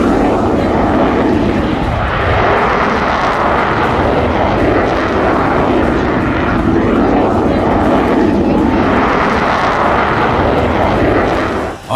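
A Rafale fighter jet of the Indian Air Force flies close by, giving a loud, sustained roar that swells and shifts in pitch and fills the whole stretch without a break.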